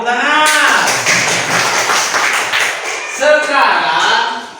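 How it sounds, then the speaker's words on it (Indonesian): Schoolchildren in a classroom lesson clap in quick rhythmic taps while voices chant along, the clapping close and lively before a short pause and a final round of voices. "Tepuk tangan."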